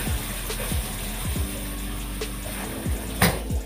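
Water runs from a hot tap in a steady, close rush, overlaid by a low hum and a few scattered knocks and clunks.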